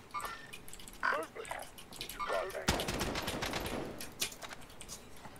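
Gunfire in a first-person shooter game, a sustained rapid burst of shots after scattered earlier pops, heard under game sounds at moderate level.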